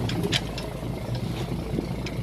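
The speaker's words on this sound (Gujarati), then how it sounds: "જો એક ટ્રેક્ટર વાહે આવે" A tractor engine rumbles steadily and low at a moderate distance on a farm trip to a nursery, its even drone holding throughout with a few faint higher clatters on top and no speech.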